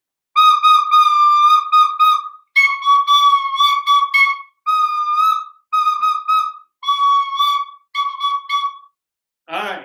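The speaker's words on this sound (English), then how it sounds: "how about two whistles?" Two whistles blown in a call-and-response rhythm game: loud, close bursts of short and held blasts in a repeating pattern, separated by brief pauses.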